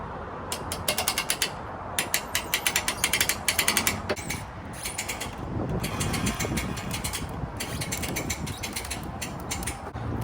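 A boat trailer winch being cranked forward for a Carolina Skiff J16, with rapid ratcheting clicks in bursts followed by a steady grinding mechanical whir, close by and loud with no talking.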